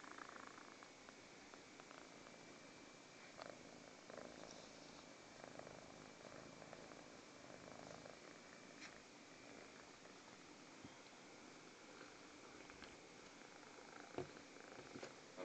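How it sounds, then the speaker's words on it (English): A small rescue kitten purrs softly in its sleep, a faint, continuous low rumble heard close up in a quiet room with no talking. "Oh, now he's purring in his sleep."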